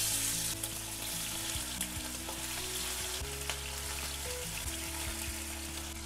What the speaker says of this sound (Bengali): পুঁটি মাছটা লাল করে ভেজে নিতে হবে, একদম গোল্ডেন কালার পর্যন্ত